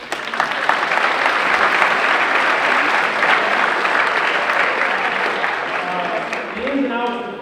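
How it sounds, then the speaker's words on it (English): An audience at a high school bass fishing state champions ceremony breaks into sustained, even applause, a dense clapping wash that carries steadily and begins to thin near the end. "Let's give him a round of applause."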